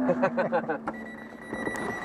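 An MGB car's warning system gives a steady, high electronic tone that sets in after a brief burst of speech and runs on to the end at moderate loudness.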